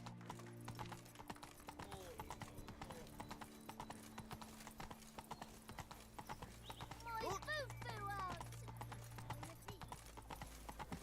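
Horse hooves clip-clop at a steady galloping rhythm in The Witcher 3, with a brief whinny partway through, all under continuous game music and spoken dialogue.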